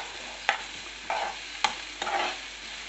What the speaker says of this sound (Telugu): కొంచెం ఫ్రై అయిన తర్వాత లైట్గా స్మెల్ వస్తూ ఉంటుంది.